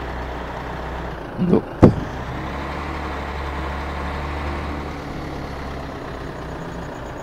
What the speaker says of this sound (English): you can see how much the tires are spinning